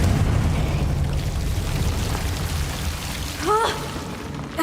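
A Confringo fire spell blast in the video game Hogwarts Legacy, a rushing, crackling burst like pouring fire over low rumble, followed by a brief rising whoosh, moderately loud with no talking.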